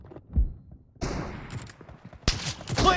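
Sniper gunfire in the battle-royale game BGMI: a few sharp shots with echoing tails, a louder crack near the start and more bursts later, mid-level in a busy game mix.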